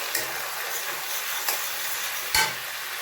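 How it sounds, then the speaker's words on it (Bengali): Ginger fries in hot oil for tempering, giving a steady close sizzle throughout, with a few sharp scrapes of a spatula stirring the pan at intervals. "আদাটা আমার ভাজা ভাজা হয়ে গেছে"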